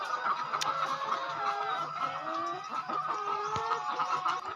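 Laying hens in a cage cluck and chatter continuously nearby, with occasional sharper calls over a soft farm background.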